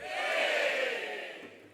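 Live event audience screaming together on cue, a loud sustained crowd roar that swells quickly and fades slowly over about two seconds, with no other sound on top.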